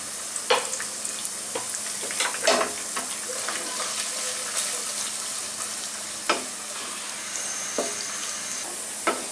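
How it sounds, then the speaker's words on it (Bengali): Onions fry in oil in a pan for a chicken jhal fry, browning with a continuous close sizzle broken by repeated scraping stirs and clacks of a spoon against the pan, no voices. "এখন আমি প্রায় আধা কাপ পেঁয়াজ বেরেস্তা করে নিব।"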